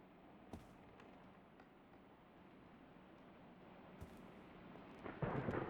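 Thunder from a storm in the horror video game Anomaly Experiment rumbles low and steady, with a few sharp cracks and a louder, swelling burst near the end, all fairly faint and without talk.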